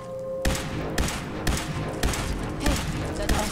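Gunfire in the video game Fallout 4: loud, sharp shots spaced about half a second apart, each with a heavy thump, over steady background game noise.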